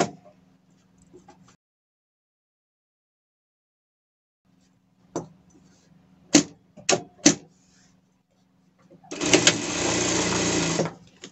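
A home sewing machine stitches the hem on a removable fabric cover for a cat bed. It runs in a few short clattering bursts, then in one steady, loud, close run of stitching near the end.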